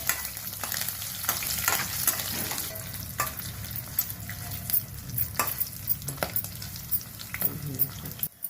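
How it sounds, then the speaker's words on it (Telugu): Dried red chilies, green chilies and curry leaves fry in hot oil for gongura rice, a continuous crackling sizzle close by with frequent clinks of a stirring spoon, and no voices. "ఇప్పుడు ఎండుమిర్చి, పచ్చిమిర్చి, కరివేపాకు వేసి దోరగా వేయించాలి."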